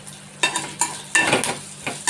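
Potatoes fry in a pan with chili and turmeric powder, with a low sizzle under several quick scraping stirs that come in an uneven rhythm, close and moderately loud.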